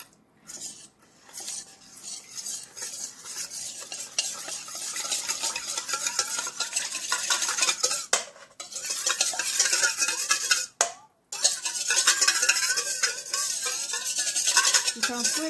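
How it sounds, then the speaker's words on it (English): Yoghurt puff puff batter stirred by hand in a bowl, a steady scraping and swishing of the spoon against the sides that runs almost continuously, close and moderately loud, with brief pauses. "I'm going to stir till"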